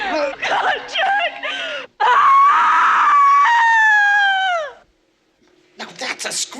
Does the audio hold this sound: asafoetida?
no